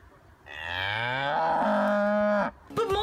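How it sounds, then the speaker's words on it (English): A single long cow moo, loud and close, rising then holding for about two seconds before cutting off, followed by a brief unrelated sound. "Masako, why is Havod a cow?"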